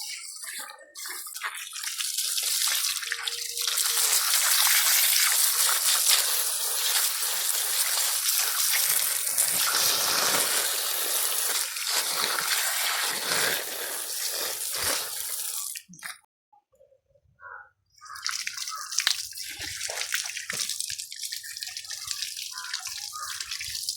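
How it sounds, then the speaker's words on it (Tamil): Water gushing and splashing as soil is washed off freshly harvested carrots, a loud continuous running stream that breaks off briefly, then resumes with drips and splashes. "நல்லா கழுவி எடுத்துடலாம். மண் நிறைய இருக்குது"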